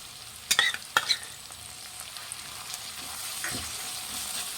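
Ginger garlic paste fries in a pan for Guntur chicken, opening with a few sharp metallic clinks and scrapes of stirring, then settling into a soft, steady sizzle that slowly grows louder.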